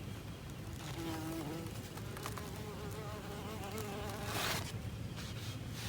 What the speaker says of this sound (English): There are just bees everywhere.